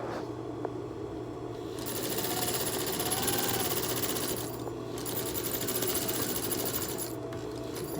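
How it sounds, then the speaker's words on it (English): A sewing machine stitches elastic onto a pleated fabric face mask, its fast, steady mechanical chatter running close and loud for several seconds with brief pauses. "And then I hold this end and stitch 1/4 inch."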